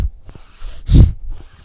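Bhastrika yoga breathing with forceful arm movements: a few sharp, close nasal breaths whoosh in and out in a quick rhythm, with the strongest burst near the middle, and no talking.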